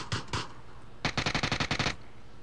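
Rapid gunfire from a shooting video game: a short double burst, then a quick run of about ten evenly spaced shots, loud and close.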